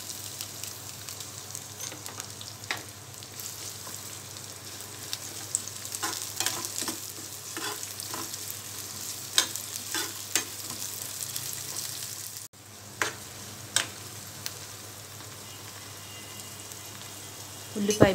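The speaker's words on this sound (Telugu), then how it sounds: "ఆయిల్ వేడైన తర్వాత జీలకర్ర, ఉల్లిపాయ ముక్కలు, పచ్చిమిర్చి వేసుకోవాలి." Cumin, onion pieces and green chillies sizzle steadily in hot oil for a prawn and drumstick curry, a continuous crackling fry broken by stirring scrapes and clinks of a spoon against the pan.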